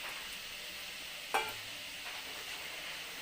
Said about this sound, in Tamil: இது எண்ணெயே பிடிக்காது பாருங்கள் பொரியுது சூப்பராக